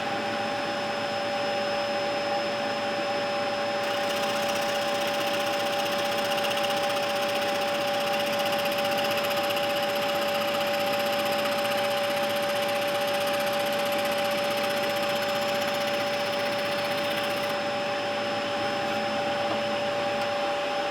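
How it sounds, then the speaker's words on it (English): A vacuum cleaner runs steadily and loudly beside a Record Power SS16V scroll saw, a constant whining roar with a sharp tonal hum, briefly brightening in pitch for a stretch before settling again; no talking. "Vacuum cleaner first."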